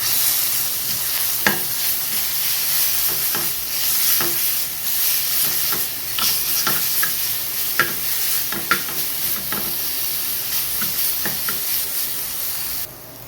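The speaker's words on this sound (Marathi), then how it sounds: "हा मसाला भाजून झालेला आहे" Masala spice mix dry-roasting in a pan while being stirred, with a steady soft sizzle and hiss broken by scattered scraping taps of the spoon, close and continuous, no voices.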